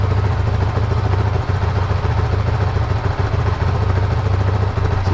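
A 2021 Honda CRF450RL motorcycle with a Yoshimura exhaust runs close up, about a foot from the exhaust, with a steady, loud low engine drone and no breaks.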